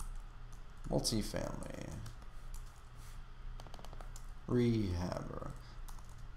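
Fast, light clicking of computer keyboard keys as text is typed into a form, a run of quick taps heard under and between a man's speech.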